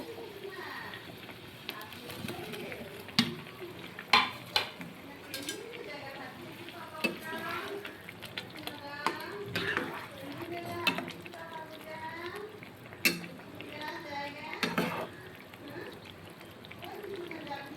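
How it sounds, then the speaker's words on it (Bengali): Fried potatoes and soybeans being stirred into simmering curry gravy for a soyabean curry, with intermittent spoon clinks and pan scrapes under someone talking steadily nearby. "এবার এর মধ্যে আমি ভেজে রাখা আলু, সয়াবিনগুলো দিয়ে দিব।"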